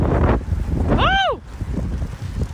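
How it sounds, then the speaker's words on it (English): Heavy wind buffets a microphone outdoors in a store parking lot, a loud low rumble that dips briefly, with a voice rising in a swooping exclamation over it. "This wind is so freaking heavy."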